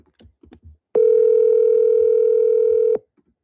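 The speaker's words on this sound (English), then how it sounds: "Phone is ringing." A single long telephone ring tone sounds on an outgoing call, a steady electronic tone lasting about two seconds, preceded by a few faint keyboard taps.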